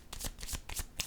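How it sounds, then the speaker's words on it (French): Tarot cards are handled during a card reading, giving several quick crisp papery flicks and slaps in rapid succession, close and clear with no voices. "Je vais déposer une carte ici"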